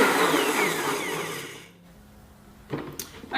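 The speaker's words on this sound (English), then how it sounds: "I'm just going to select smoothie on my BlendTech blender," A Blendtec blender on its smoothie setting whirs loudly as it blends a kale green smoothie, a steady roar that cuts off partway through, followed by quieter handling clatter and a few knocks.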